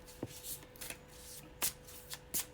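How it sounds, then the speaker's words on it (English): Deck of cartomancy cards riffled and shuffled by hand in several quick bursts, soft papery flutters and snaps close by with quiet gaps between. "These cards just want to be shuffled."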